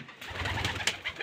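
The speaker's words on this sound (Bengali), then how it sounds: "আর এইখানে একজোড়া কবুতর দেখতে পাচ্ছি ভাই" Giribaz pigeons in a loft give a short, soft cooing call. The sound is close and brief, about a second long, with no talking.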